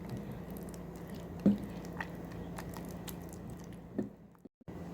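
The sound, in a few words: stirring banana pudding popcorn mixture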